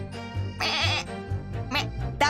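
A voice imitates a goat, producing wavering bleats in short bursts up close, with a few spoken sounds mixed in.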